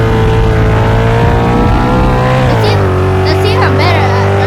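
A car in a tornado survival video game drives with a loud, steady engine drone whose pitch shifts and dips, with sweeping wind-like tones rising near the end.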